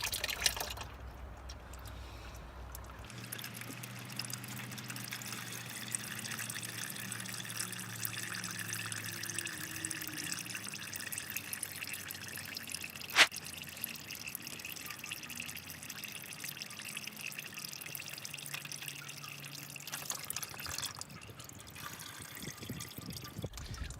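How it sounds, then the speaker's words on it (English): Engine oil drains out of a vehicle during an oil change, a continuous liquid trickle and splash into a catch pan lasting a long stretch, with a sharp clink partway through. "So then you just let it drain and I'll be back."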